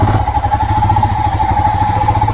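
A Royal Enfield Himalayan motorcycle with about 7,300 km on it runs its single-cylinder engine close by, a steady, loud rhythmic thumping idle that continues throughout with no talking.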